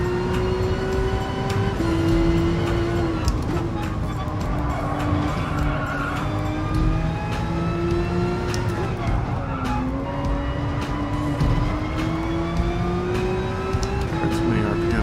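A race car engine revs and shifts through gears at Brands Hatch in the GT Sport racing game, the loud engine note rising and falling steadily, with tire squeal and someone talking over it.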